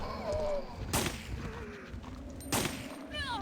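Two sharp gunshots sound about a second and a half apart during Resident Evil 3 (Bio Hazard 3) gameplay. Game background noise runs under them.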